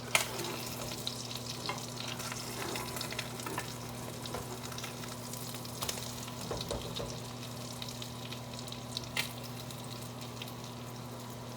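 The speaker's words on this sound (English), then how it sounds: "Give that spam a flip." Spam frying in a pan with a constant crackling sizzle and scattered pops, steady and close, over a low electrical hum.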